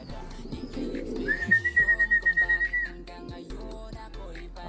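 Two pigeons coo with a soft, low, pulsing burble nearby, while a thin steady whistle-like tone carries over it for a moment amid quiet background noise.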